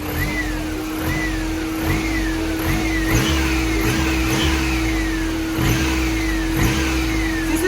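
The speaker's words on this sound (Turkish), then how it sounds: "Bu hıyırtı sesi motorun orijinal olduğunun sesidir." Doğan SLX car with its original engine running, a steady mechanical whine holding under a rough idle, with repeated rising-and-falling whirring pulses from the engine bay, close and fairly loud throughout.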